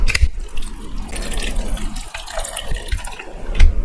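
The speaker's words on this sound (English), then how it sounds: "And now I will add water" Water pours and splashes steadily into a pan, close and fairly loud, with bubbling liquid sounds for a few seconds.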